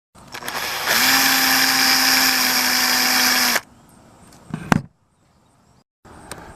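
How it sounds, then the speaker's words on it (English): A power drill whines at a steady high pitch for about two and a half seconds, drilling a small hole where the primer sat in a shell casing, then stops, followed by a few handling clicks and quiet. "So I'm going to drill probably like a 1/8 or smaller hole right where the primer and the shell used to be."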